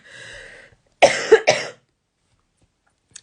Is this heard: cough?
yes